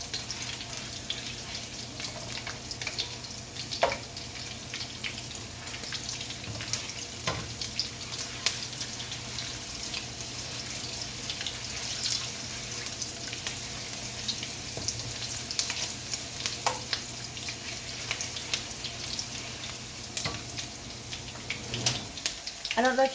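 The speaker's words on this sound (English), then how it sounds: "I don't know if you can hear the little crackling of the chili and the ginger and the little frying part." Chicken karhai frying in a pan with chili and ginger gives a steady, soft crackle and sizzle with occasional sharper pops, fairly quiet and close, with stirring sounds and little talk.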